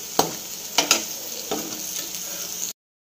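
Curry leaves fry in hot oil with a soft steady sizzle and a few stirring knocks, close and brief before cutting to silence.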